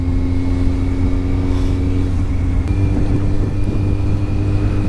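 A Kawasaki Z750R roadster engine idling steadily, a loud, close, continuous rumble with a low, even drone throughout, no voices.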